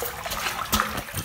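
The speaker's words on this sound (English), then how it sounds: "This is where the water's going from." Water trickles and splashes inside an underground tunnel, a close, continuous wet dribbling with a brief louder splash partway through.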